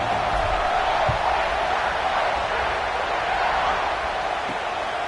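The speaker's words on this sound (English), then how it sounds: "this crowd is buzzing after that last score" A college football stadium crowd buzzes steadily after a score, a dense, continuous roar of many voices heard from a distance with no distinct individual sounds.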